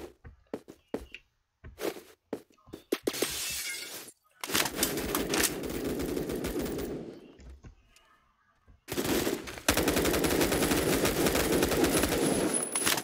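Gunfire from the player's weapon in the shooter game Phantom Forces, short bursts of single shots at first, then long sustained loud automatic volleys with brief pauses.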